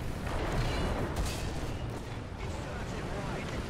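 Heavy, continuous anti-aircraft gunfire and booming battle noise from War Thunder, a dense roar of rapid shots and rumbling blasts filling the whole moment with no clear pauses.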